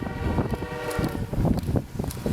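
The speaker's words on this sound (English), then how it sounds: "This guy got a little too close to the snowplow train." A snowplow train rushes past in a loud, continuous roar of wind and rail noise that stays dense and steady for about two seconds, with no voices.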